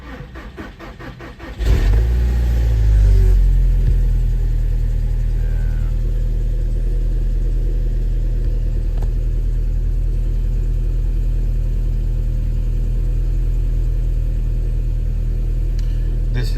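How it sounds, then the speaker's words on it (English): A 2012 VW Golf R with an intermittent stall problem cranks briefly and fires up, its engine swelling loudly before settling into a steady, deep idle rumble close by. "Start the car."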